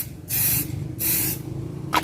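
Spray paint hisses in two steady, close bursts as a thin coat goes onto a motorcycle wheel rim, followed by the start of a third burst, with no voices.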